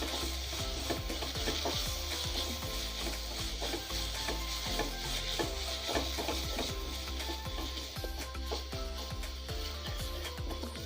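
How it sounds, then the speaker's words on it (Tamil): Masala with turmeric and chilli powder stirred in a frying pan for a mushroom curry: a continuous close sizzle with repeated scraping and tapping of the spoon against the pan, and no talking. "இப்போ இதை நல்லா மிக்ஸ் பண்ணிக்கோங்க"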